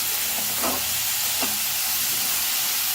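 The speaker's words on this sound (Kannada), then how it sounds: "ಇವಾಗ ನಾನು ಮಸಾಲೆಗಳನ್ನೆಲ್ಲ ಹುರ್ಕೊತಾ ಇದ್ದೀನಿ ಚೆನ್ನಾಗಿ" Spices and chilli powder fry in a pan, making a steady, close sizzling hiss broken by two short scraping stirs early on.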